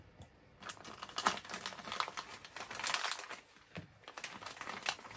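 Packaged parts of an RC car center differential gear set with a 47-tooth ring gear being unwrapped, producing close crinkling plastic bag sounds and small rustles that come in irregular bursts, with no talking.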